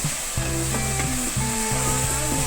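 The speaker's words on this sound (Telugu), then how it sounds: "ఇది వేగుతూ ఉంది కదా" Green chilli and ginger paste frying in a pan for an egg tomato curry, a steady close sizzle with faint stirring scrapes running throughout.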